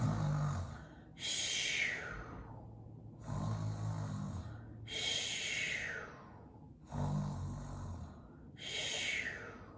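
A person deliberately imitates deep, rhythmic snoring three times, each slow rasping inhale followed by a breathy snort-like exhale, close and steady with no talking.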